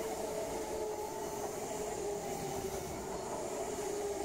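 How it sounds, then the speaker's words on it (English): An A series passenger train passes through East Guildford station with a steady, even rumble and hum throughout, moderately distant and without talk. "And here's the train."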